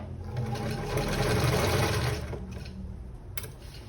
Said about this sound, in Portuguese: eu vou passar uma costurinha aqui, prendendo essa alça antes de colocar o forro